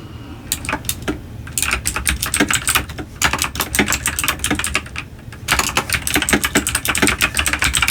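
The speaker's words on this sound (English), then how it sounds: "Sorry for the loud clickiness of the keyboard." Loud, clicky mechanical keyboard typing in quick bursts of keystrokes, close by, with brief pauses between runs.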